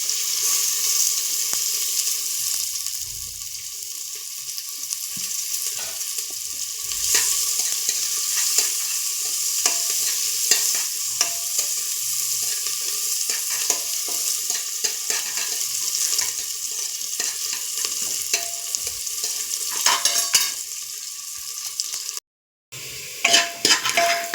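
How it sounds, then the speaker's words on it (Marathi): Onions stirring and frying in a pan after cumin, a steady sizzle with frequent scraping of the spoon, close and continuous, with a brief dropout near the end. "कांदा थोडासा लालसर भाजी द्यायचा."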